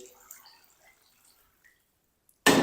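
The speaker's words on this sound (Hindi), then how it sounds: "पानी शामिल कर देंगे।" Water pours from a tap into a cooking pan holding potatoes and chicken, starting suddenly after a quiet stretch as a loud, steady splashing gush that runs to the end.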